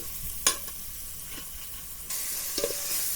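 Onions sauté with ginger garlic paste for mushroom biryani: an even sizzle with a sharp utensil knock near the start, stirring scrapes, and the sizzle swelling louder toward the end.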